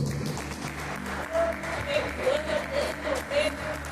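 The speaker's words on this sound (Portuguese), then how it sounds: "Palmas para Jesus." Congregation clapping at a Monday church service, a sustained wash of applause beneath a voice and music, with louder surges in the second half.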